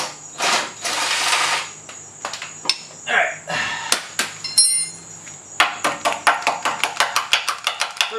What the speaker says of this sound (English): then I'm gonna use a breaker bar underneath